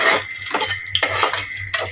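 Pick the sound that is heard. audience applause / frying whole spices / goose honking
frying whole spices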